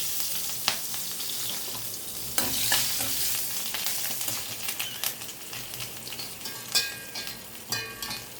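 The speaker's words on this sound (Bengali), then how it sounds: "কাঁচা লঙ্কা দিয়েছি তো ভাজছে" Black cumin seeds and green chilies sizzle and crackle in hot oil as a tempering, with sharp pops and stirring scrapes, close and continuous.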